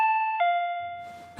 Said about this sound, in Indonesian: Lalu tiba-tiba bel pun berbunyi